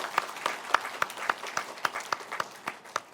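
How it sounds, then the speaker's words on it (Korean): A church congregation at a Sunday worship service claps for eleven award winners, sparse, distinct claps at a steady rhythm rather than a dense roar, moderately close in a large hall. "그 11명에게 모두에게 축복과 격려의 박수를 이 시간 함께 하도록 하겠습니다"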